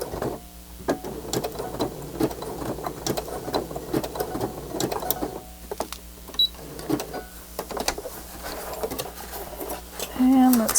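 A sewing machine backstitches through a handmade nature journal's book cover in short, uneven bursts of rapid ticking, with a person talking quietly over and between the runs.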